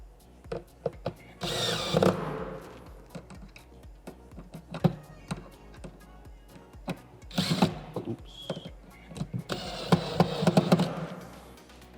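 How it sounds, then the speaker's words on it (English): A power drill driving screws into a box, with short bursts of whirring between clicks and handling knocks, fairly close. "Go ahead and grab your drill and just"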